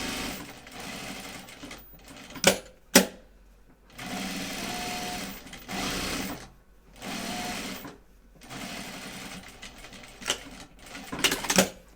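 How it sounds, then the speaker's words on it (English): Sewing machine edge stitching around a small bag flap, several fast whirring runs of needle chatter broken by short pauses and clicks, close and loud, with a voice briefly heard in between. "I think I'll edge stitch around the little flap."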